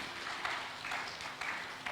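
A church congregation applauds during a Sunday service, a steady wash of many hands clapping at moderate distance that pulses slightly and carries on without talk for a couple of seconds.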